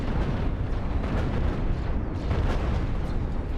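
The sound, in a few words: deck cannons firing in the Cosmoteer video game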